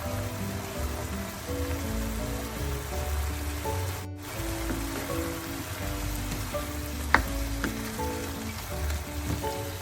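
Squid and tomatoes sauté in a hot pan with a steady, soft sizzle and crackle, a continuous frying hiss close up that carries on unbroken, with a single sharp clink near the end.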